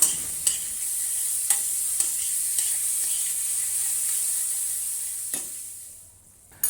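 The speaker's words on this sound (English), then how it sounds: "add the lean meat and stir fry until it is fully cooked" Lean pork and onion stir-frying in oil in a pan, a constant bright sizzle punctuated by several spatula taps and scrapes, fading lower at the close.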